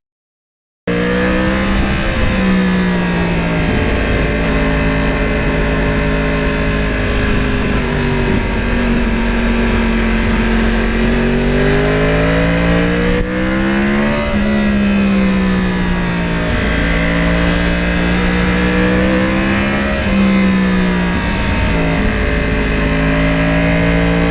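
A 2009 Yamaha R1 crossplane motorcycle engine revs loud and close, rising and falling through the throttle in a steady roar that sweeps up and back down several times without pause.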